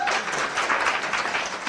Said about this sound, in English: Clap it up for the poet.